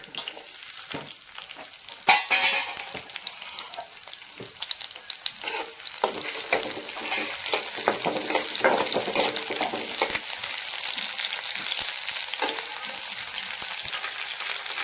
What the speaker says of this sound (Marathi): आता थोडस लसूण कट करायला आपण या सोडून देऊ थोडंसं हिरव्या टाकून देऊ